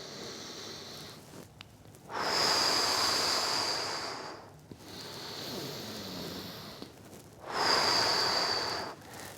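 Two long, deep nasal inhalations during a slow standing shoulder-opening exercise with hands clasped behind the back, each a broad airy rush close to the mic separated by quiet pauses.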